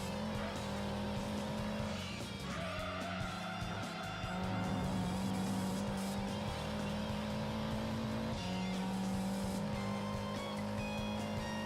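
Race car engine from the Gran Turismo 2 video game drones steadily throughout, with sustained revving pitch shifts and occasional tire squeal, loud and continuous with no talk.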